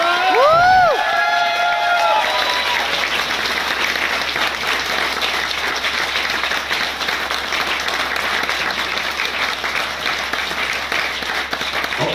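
An audience at a motivational talk breaks into loud applause and cheering, with a brief whistle or shout at the start, then a dense, sustained crowd clapping that carries on steadily at full strength throughout.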